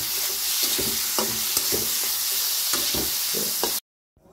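Boiled chicken feet frying in a pan, loud continuous sizzling close up, with repeated scraping strokes of a spatula stirring, then a sudden cut to silence.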